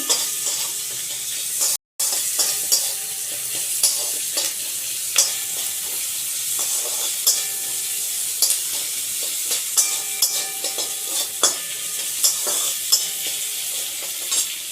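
Chicken curry fries in a pan over a medium flame. A dense, close crackling sizzle runs throughout, with the scrapes and taps of stirring repeating irregularly. There is one brief dropout near the start and no speech.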